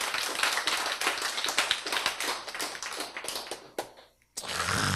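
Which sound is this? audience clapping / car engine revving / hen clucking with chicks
audience clapping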